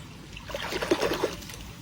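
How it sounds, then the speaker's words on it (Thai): Hands are washed with water beside a fishing spot, giving a brief, close trickle and splash of moving water with soft uneven spatters. "ล้างมือหน่อยครับ"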